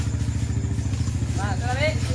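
A motorcycle engine idling nearby with a steady, rapid low chugging rhythm, while people talk over it in the foreground.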